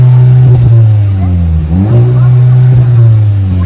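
A stock Skoda Octavia vRS engine revs loudly up to its soft limiter, the harmonic drone climbing, dipping and bouncing against the cut-off before settling into a steady high hum.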